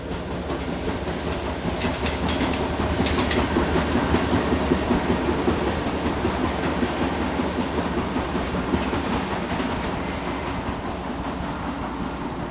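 A three-unit Norfolk Southern helper set of locomotives drifts downgrade around a bend toward a tunnel, rumbling steadily with rhythmic wheel clatter over rail joints, at moderate distance.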